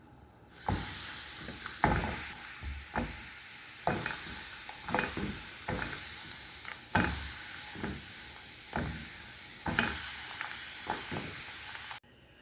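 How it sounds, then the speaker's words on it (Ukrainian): Food sizzles and crackles in a hot pan, with repeated bursts of stirring or scraping every second or so over a steady hiss. "Будемо смажити ціленьким."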